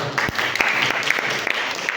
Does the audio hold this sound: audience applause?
yes